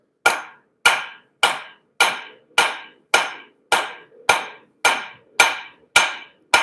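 A hammer strikes a railroad spike about eleven times in a steady rhythm, each blow a sharp ringing clang up close, forging a bottle opener.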